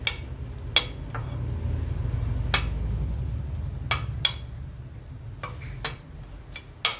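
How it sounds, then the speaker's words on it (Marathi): Ground rice is stirred and roasted in a pan while preparing kheer. A low steady sizzle sits underneath, broken by about a dozen sharp clinks of a spoon scraping against the metal. "आता आपल्याला तांदूळ बारीक केलेले ते पण त्याच्यामध्ये परतून घ्यायचे"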